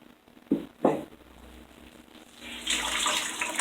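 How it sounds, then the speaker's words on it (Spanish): Water drains and trickles from freshly formed chontaduro paper pulp. A couple of soft wet knocks come first, then a steadier splashing flow that grows louder and keeps running. "Miren la cantidad de agua que sale."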